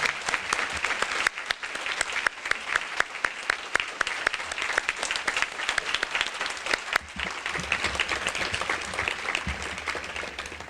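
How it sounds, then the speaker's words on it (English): Sustained applause from a sizable crowd at an awards luncheon, steady clapping that fills the room for several seconds without letting up. "let's give them all a round of applause"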